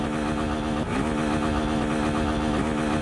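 A Honda XRE300 motorcycle engine runs steadily and close in a Brazilian favela street, a loud continuous mid-pitched drone with a slight rise in revs near the start, and no talk.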